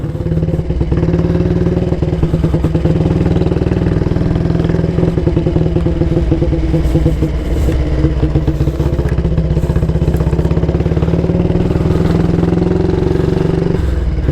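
A 1938 AJS Model 22 250cc single-cylinder motorcycle engine runs steadily, loud and close, with a constant mechanical clatter and a throbbing beat that holds an even pace throughout.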